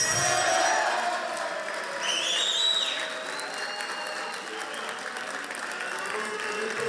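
Governing-party deputies in parliament applauding and chanting, a sustained crowd roar of clapping and voices with whistles, loud and continuous throughout.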